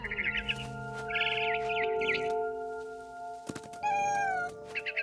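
Cat meowing in the video game What Remains of Edith Finch, several sharp meows and chirping calls mixed with bird chirps against a steady background tone.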